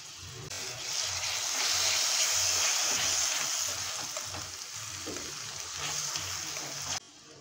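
Tomatoes and onion frying in oil make a continuous moderate sizzle and hiss that swells early, stays fairly even, then cuts off abruptly near the end.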